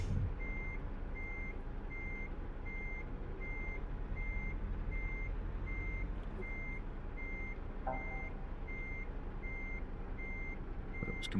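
Steady reversing beeps from a truck in the Euro Truck Simulator 2 game, a repeating evenly spaced tone sounding over a continuous low engine rumble, with no voices.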